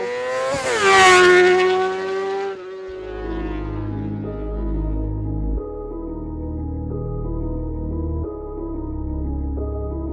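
A 2024 Honda CBR650R motorcycle engine revs up sharply, then settles to a steady idle. Occasional throttle blips break the idle. The sound is close and moderately loud, and there is no talking.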